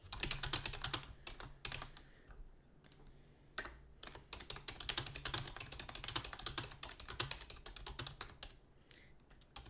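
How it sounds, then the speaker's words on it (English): Rapid typing on a computer keyboard close by, bursts of crisp clicky keystrokes separated by short pauses, continuing throughout with no voices. "so I probably won't be typing very much"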